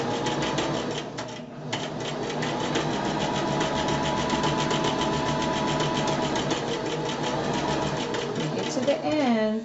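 A sewing machine stitches a half-inch seam on a pillow, running a steady, fast mechanical whir close up with a brief pause near the start. A person talks over it throughout.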